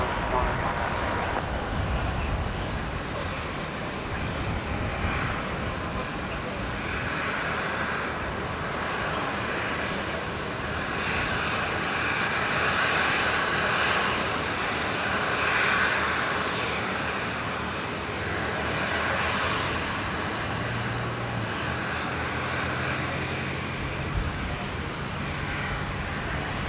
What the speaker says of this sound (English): Qantas 1998, runway 19 right, clear for takeoff.